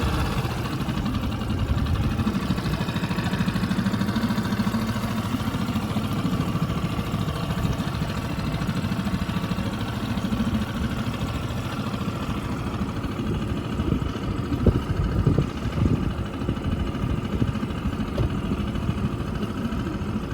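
Outboard engine on a dinghy during a harbor ride, a steady mid-pitched motor drone running continuously with water and wind noise, loud and close throughout.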